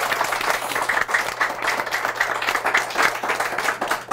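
An audience claps steadily through a Korean book forum event where an author is meeting readers, a dense, even patter of many hands in a small hall, with no voices over it.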